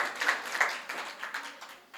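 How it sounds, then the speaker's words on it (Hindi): Scattered, light clapping from a small audience at a Hindi poetry recital in Maujpur, with individual claps audible in an uneven rhythm that tapers off. "एक बार फिर से तालियां बजा दो"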